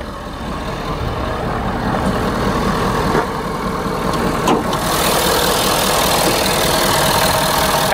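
A 2013 Ford F350's 6.7-liter Powerstroke turbo diesel V8 idles steadily with a deep, continuous rumble, joined by a brief rattle and a faint clank partway through.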